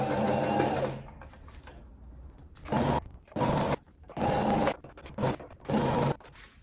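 Sewing machine stitching a side seam in organza fabric for a dance boa, running in four or five short bursts with brief pauses between them, close and fairly loud, with no talking.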